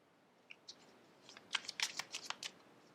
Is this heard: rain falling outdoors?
no